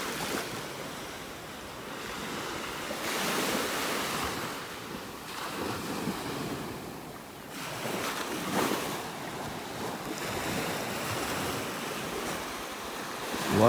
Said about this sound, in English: We see those waves breaking.